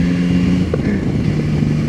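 Motorcycle engine running steadily while the rider pulls a wheelie, a close, continuous droning hum with a constant low pitch and no clear revving swell.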